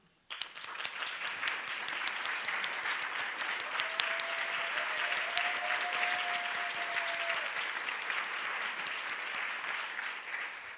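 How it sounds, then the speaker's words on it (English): An audience at a county animal shelter community event gives a sustained round of applause, starting abruptly and holding a dense, even clatter of clapping for about ten seconds, moderately distant, with a faint tone briefly beneath it. "if all of our advocates would please stand for a round of applause."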